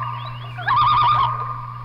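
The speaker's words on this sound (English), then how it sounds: "I started hearing the loon calls" A loon on an Arctic lake in Alaska gives one wavering, rising wail lasting about half a second, clear and fairly loud above a constant low hum.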